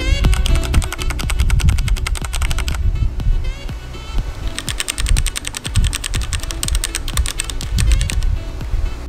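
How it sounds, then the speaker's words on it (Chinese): Typing on keyboards fitted with Cherry MX switches, including a Cherry MX Board 3.0S, with metal and plastic boards compared. A dense, loud run of rapid key clicks and clacks continues steadily throughout, close and with no talking. "给你们听听同样都是 Cherry 插轴放在不同键盘上的声音"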